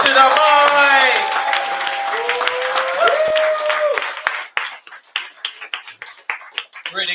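At an open mic and celebration-of-life gathering, scattered audience claps and cheers are mixed with voices and a tonal whoop. The crowd sound thins into sparse individual claps toward the end.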